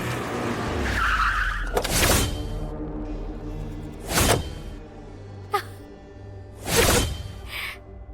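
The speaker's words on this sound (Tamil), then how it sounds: "அண்ணனோட கார் சத்தம் கேக்குது" A car pulls up in a Tamil TV drama scene, with a skidding tire screech and three sharp whooshing swells over a steady low engine hum.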